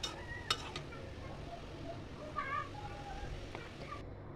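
Cauliflower with broccoli and carrot being stirred in a pan for a yellow cauliflower fry, giving a soft steady scraping hiss broken by a few faint clinks of a utensil against the pan.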